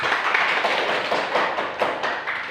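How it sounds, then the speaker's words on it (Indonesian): Classroom students clapping together, a dense, continuous patter of many hands at moderate distance, steady for a couple of seconds with a few sharper claps, no speech over it. "Terima kasih, tepuk tangan semua."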